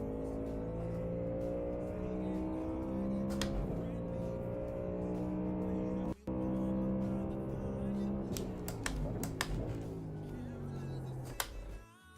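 A race car in the sim racing game iRacing laps at full throttle, its engine holding a loud, steady drone with rising and falling harmonics through shifts, plus a brief cut near the middle and a sharp drop at the end.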